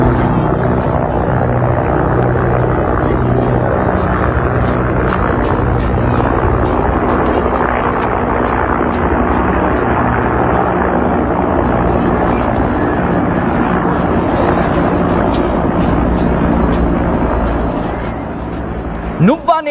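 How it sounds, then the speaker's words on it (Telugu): Helicopters arriving over the site of a train hijack in Balochistan, Pakistan: a steady, loud rotor and engine drone fills the whole span with a rapid chopping pulse, mixed with talk throughout. "మీరు చూస్తున్నారు హెలికాప్టర్స్ అక్కడికి చేరుకున్నాయి."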